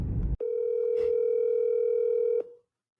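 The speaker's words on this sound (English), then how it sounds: "let's give this guy a call and see if he'll actually answer." A steady telephone dial tone hums for about two seconds as a phone call is placed, starting after a brief burst of noise and cutting off cleanly, with a faint click in the middle.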